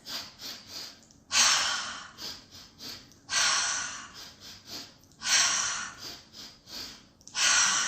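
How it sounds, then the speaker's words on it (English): Breath-work pattern close to the microphone: a few quick sniffing inhales through the nose followed by a long, forceful exhale through the mouth, repeated four times in steady cycles. "quick inhales through the nose in succession, and then an exhale through the mouth"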